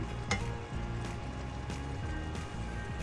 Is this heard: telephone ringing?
no